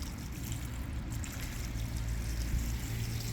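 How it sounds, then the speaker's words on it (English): Water poured from a small bucket onto a newly planted nursery plant at a B&B entrance, a steady close trickling and gurgling wash with low rumble underneath, continuous throughout with no talking. "I got a little bucket of water here. I'm just going to go ahead and water this thing in."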